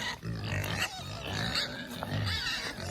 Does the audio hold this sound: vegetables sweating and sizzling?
no